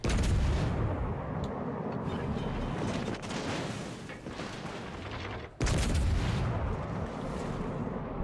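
A Yamato battleship firing HE shells in World of Warships Legends: heavy booming artillery over a constant loud rumble, with a sharp blast about two-thirds through, dense and continuous throughout.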